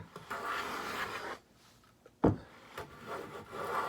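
Stanley #7 hand plane jointing a wood edge, set to a very fine cut, giving soft rasping shaving strokes with brief pauses between them and a sharp knock partway through.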